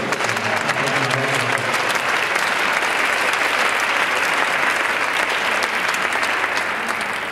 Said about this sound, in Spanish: daros un aplauso